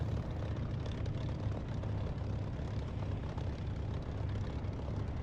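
A Spitfire taking off in the DCS flight simulator, its engine a loud, steady, continuous roar from start to finish.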